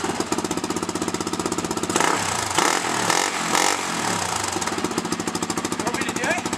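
Honda XR250 dirt bike engine revving hard, a loud rapid staccato firing close by, swelling into a denser roar for a few seconds mid-clip before settling back to a choppy rhythm.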